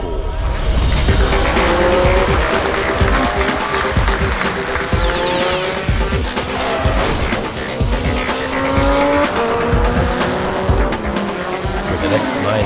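Vintage Le Mans slot cars racing at night on a track in Naples, Italy, a continuous loud whine of small motors with rising and falling pitch as cars pass, while people talk over it.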